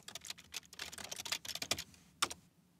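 Fingers type on a computer keyboard in quick, irregular bursts of soft clicks, ending with a single sharper keystroke and then quiet, close and faint with no voices.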